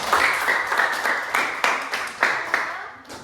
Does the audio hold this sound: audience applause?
yes